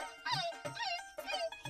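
A voice imitating a dog barking, three short yelping bark sounds in quick succession, close and fairly quiet.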